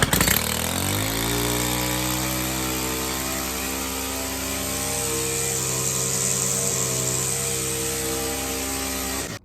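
A Stihl FS131 string trimmer's two-stroke engine catches and settles into a steady, loud, buzzing run. The sound is close and continuous, with no voices.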